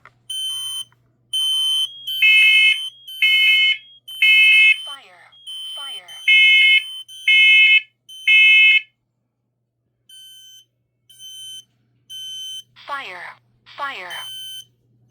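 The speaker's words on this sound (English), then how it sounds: "his next alarm we're going to test is the Kidde P12040" A Kidde P12040 smoke alarm sounds during a test, sending loud, close, evenly spaced bursts of shrill high beeping that stop briefly, resume more faintly, and are followed by a voice near the end.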